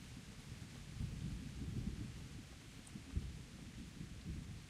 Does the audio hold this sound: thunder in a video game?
yes